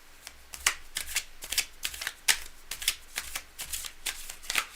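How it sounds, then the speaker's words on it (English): A deck of tarot cards is shuffled during a live reading, the cards riffling and slapping together in quick, irregular bursts, close and crisp with no talking. "Okay, cards are well shuffled."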